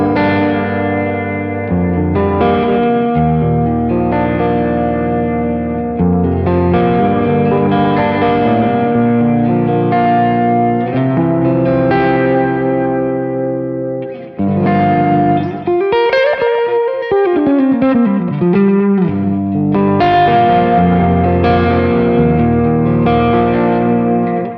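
An electric guitar runs through a Headrush Gigboard with a drop pitch-shift effect, playing loud chords and riffs with a chorused, echoing tone, including a pitch bend sweeping down and back up midway; no speech.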